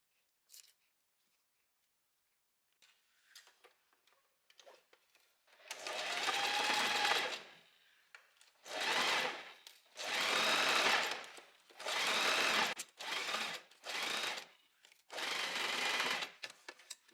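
A sewing machine stitches fabric for a wrap dress in a series of close, buzzing runs of about one to two seconds each, separated by short pauses, with faint handling noises before the first run.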